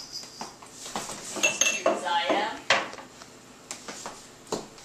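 Dishes and cutlery clatter and clink at close range while someone prepares Dinty Moore stew in a kitchen, a series of irregular metallic chinks and scrapes of varying loudness, with faint voices in the background.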